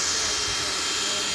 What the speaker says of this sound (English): That's the locomotive. It's definitely steam powered.